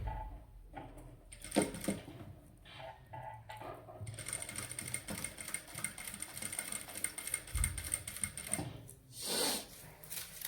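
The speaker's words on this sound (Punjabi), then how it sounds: "ਮੈਨੂੰ ਮਸ਼ੀਨ ਆ ਜਿਹੜੀ ਉਹ ਹੌਲੀ ਚਲਾਉਣੀ ਪੈ ਰਹੀ ਹੈ" A sewing machine runs slowly, stitching lining onto a ready-made neckline with heavy embellishment work, a close mechanical whir with uneven starts and pauses.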